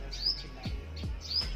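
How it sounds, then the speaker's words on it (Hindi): A small bird building a nest gives short, bright chirps, about three evenly spaced calls close by over a low background hum. "छोटी चिड़िया है"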